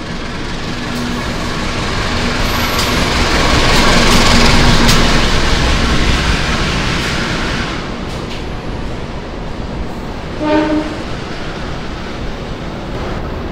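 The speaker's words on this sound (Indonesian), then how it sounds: "Kereta Manahan dari Solo Balapan tujuan Gambir baru saja tiba di jalur 4 stasiun Yogyakarta." The Manahan passenger train hauled by a CC204 locomotive rolls into Yogyakarta station, a loud broad rumble of wheels and carriages that swells then eases, with brief squeals and a short horn-like tone near the end.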